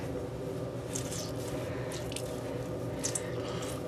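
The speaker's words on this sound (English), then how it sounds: "So I'm starting at the top and squeezing down while holding it like this so that the water falls downward." Soaked wool gloves are squeezed by hand, giving soft, quiet squelches and faint drips of water close up, with no talking.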